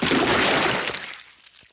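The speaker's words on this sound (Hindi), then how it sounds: "पेपा ने गंदा पानी पूरी गाड़ी के ऊपर फेंक दिया" Cartoon splash of dirty muddy water thrown over a car: a loud, broad whooshing splash that lasts about a second, then quickly fades to quiet.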